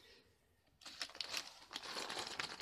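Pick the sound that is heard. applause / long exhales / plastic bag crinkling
plastic bag crinkling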